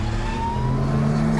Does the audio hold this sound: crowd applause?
no